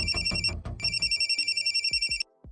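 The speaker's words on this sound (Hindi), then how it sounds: "हॉस्पिटल से फोन था सर" A telephone rings in a rapid electronic trill, two bursts of repeated pulses close and loud, then cuts off abruptly.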